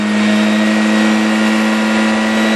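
A car engine set up to run on CNG and petrol revs hard and steadily, a loud, close, sustained mechanical drone with strong hum and no talk over it.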